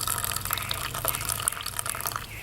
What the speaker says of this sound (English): I'll pour this tea out